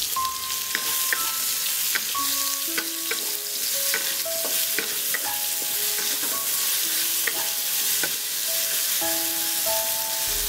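Sliced luffa and garlic stir-fry in hot oil with a loud, continuous sizzle and scattered spatula scrapes, while a melodic tune plays steadily in the background.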